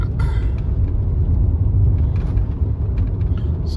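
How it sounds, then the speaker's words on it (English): A car passes on a rough, shoulderless rural road, heard as a loud, close, steady rumble of road and engine noise that builds and fades slightly throughout. "Oh, here's a car. This is the first car I've passed on this road"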